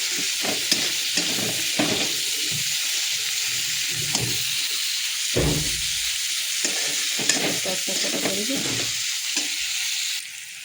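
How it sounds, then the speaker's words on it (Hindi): Thinly sliced onions fry in a pan for an Odisha-style mushroom masala curry, giving a constant close hiss broken by scraping and knocks as they are stirred. "बहुत सारा पियाज दे देछि पियाज को भाजीदवा"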